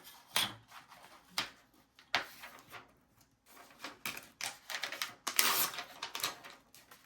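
Paper is folded and torn by hand for a junk journal page, with pink vellum in use: a series of sharp, crackly rips and rustles in irregular bursts, close and moderately loud, with no talking.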